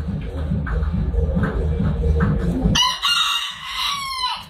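Hens cluck and shuffle nearby, then a rooster lets out a loud, drawn-out crow close to the listener.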